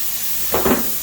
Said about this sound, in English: We'll spray the plywood and we'll spray the foam.